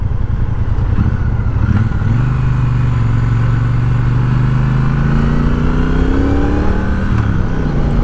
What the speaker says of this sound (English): Nice throaty sound from the stock exhaust.